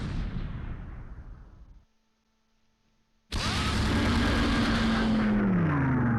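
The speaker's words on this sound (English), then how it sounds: "Let's go ahead and call in the airstrike." Airstrike explosions in Close Combat V: a loud rumbling blast fades into near silence, then a sudden roaring burst of explosions and a descending whine carry on loudly to the end.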